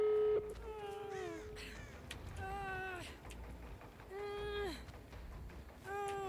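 Crows cawing in a video game, a series of harsh descending calls repeated every second or so, heard over a steady bed of game background sound, loud and close.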